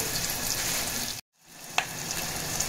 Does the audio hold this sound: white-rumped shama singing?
no